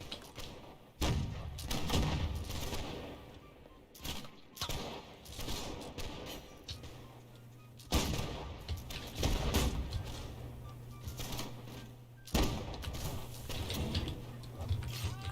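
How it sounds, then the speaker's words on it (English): Mortar and musket fire in the video game Holdfast: Nations at War, heard as a few faint, distant booming blasts spaced several seconds apart over quiet mechanical clatter and thuds. "Oh, that's a mortar."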